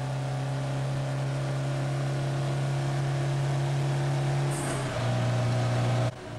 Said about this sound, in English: the ear-splitting sound of a Mark 7 Foden 225 horsepower two-stroke diesel driven through the Foden 12-speed gearbox